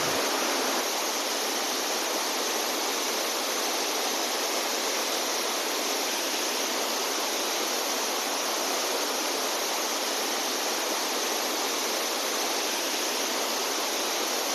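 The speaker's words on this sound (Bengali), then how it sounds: "এখানে জল এত ফোর্সে পড়ছে যে জলটা পড়ে পুরো বেকার হয়ে যাচ্ছে" Tirathgarh waterfall pours with great force in a steady, loud, unbroken rush of falling water that fills the whole stretch without any change.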